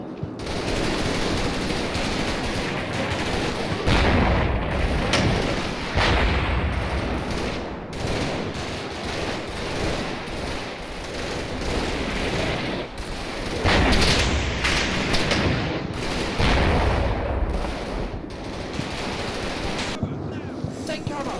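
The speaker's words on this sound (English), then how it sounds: "artillery barrage." Heavy, continuous artillery barrage in the WWII wargame Combat Mission, set in Normandy and Holland, with rolling rumbles and overlapping blasts forming a dense, loud wall of explosions that surges and fades throughout.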